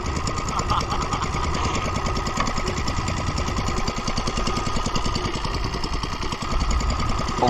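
A boat's engine runs steadily after starting, with a rapid, even knocking chug loud and close throughout.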